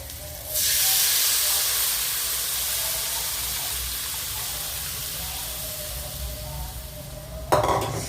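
A loud burst of hissing steam and sizzle as tamarind water hits a hot pan, sustained for several seconds, ending with a brief clatter.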